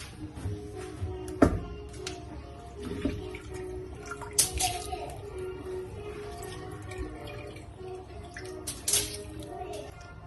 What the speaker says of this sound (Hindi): पानी में खटकी पड़ रही है तो मैं इसमें डाल दूंगी अब चावल।